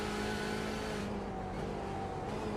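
A BMW race car in the iRacing sim, engine droning with steady harmonic tones before dropping in pitch on a downshift with faint crackle and pop, loud and continuous.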